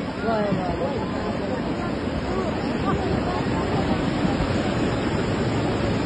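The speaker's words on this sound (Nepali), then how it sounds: "ल खोलो गनाएर ठुलै आयो।" A flooded river in spate roars in a broad, constant rush of churning water, loud and close with no break or change in level.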